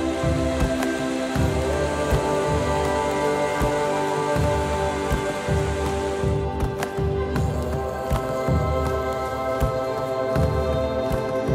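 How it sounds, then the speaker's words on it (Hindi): Light rain falls in the Pahalgam valley in Kashmir, a steady, close patter of drops on surfaces that goes on throughout and sits over a busy background. "सो अभी हल्की हल्की बारिश हो रही है"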